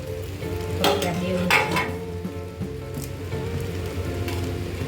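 A bunch of curry leaves crackles and sizzles in thick masala while a utensil stirs through it, close frying hiss with a few sharp spitting bursts and scraping strokes.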